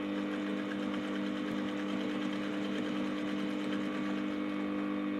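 A sewing machine stitches a corset with bra cups, running as a continuous, even whir with a fast needle rhythm throughout, close and alone.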